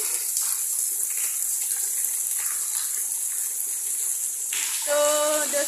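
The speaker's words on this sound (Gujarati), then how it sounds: "જુઓ કેવો પડે છે વરસાદ" Rain falls steadily as a continuous watery hiss that stays even throughout, with a brief tonal sound breaking through near the end.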